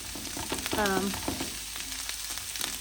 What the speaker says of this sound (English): Get the onions sauteed down a little bit.